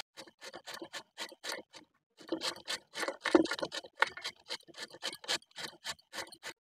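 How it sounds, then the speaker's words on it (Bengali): Peeled beetroots, three medium-sized, rubbed against a hand grater in a kitchen: a steady run of short rasping scrapes in quick rhythmic strokes, close and fairly quiet, with a brief pause partway through and no talking. "এখন আমি বিটগুলোকে ঘষে নেব, ঘষুনি দিয়ে ঘষে নেব"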